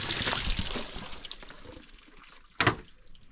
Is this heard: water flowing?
yes